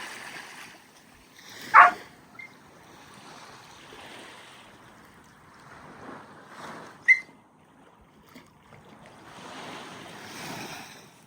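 Gentle waves washing ashore at a quiet, empty little bay on the Yorke Peninsula coastline, soft and fairly distant, with a few louder surges and some light wind breath over the mic.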